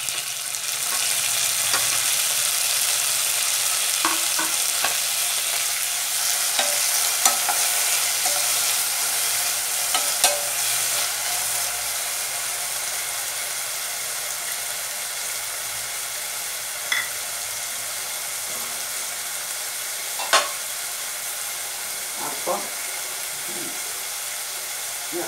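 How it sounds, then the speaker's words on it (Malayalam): Onions and tomato fry in a pan with a steady hiss of sizzling, while a utensil stirring them adds occasional soft scrapes and clinks, close and continuous. "സവാള ഒരു വിധം മൂത്തു, ഒത്തിരി മൂപ്പിക്കണ്ട."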